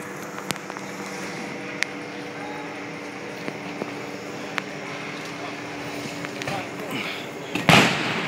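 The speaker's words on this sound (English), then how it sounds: "They're continuing to fire into the neighborhood." Distant gunfire crackles through a neighborhood during the Ferguson unrest. Scattered faint, sharp cracks sound over a low rumbling background, and a louder burst comes near the end, with faint voices beneath.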